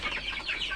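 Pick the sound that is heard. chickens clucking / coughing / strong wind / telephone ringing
chickens clucking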